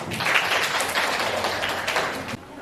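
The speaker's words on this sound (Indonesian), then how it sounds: "Oke, tepuk tangan." Audience applause at a training session, a steady broadband clapping that fills the whole moment loudly and evenly before easing off near the end.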